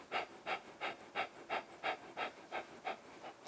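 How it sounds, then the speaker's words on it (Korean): Quick, rhythmic breathing through the nose during a meditation exercise: about ten evenly spaced, airy breaths, close and soft, with no talking. "숨을 코로 마시고"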